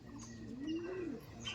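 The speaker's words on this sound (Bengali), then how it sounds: "এই দেখুন, এই পেয়ারটা আমার খুব ফেভারিট পায়রা।" A single soft, rising-and-falling coo from a Giribaj high-flying pigeon, close but quiet, lasting about a second over faint background noise.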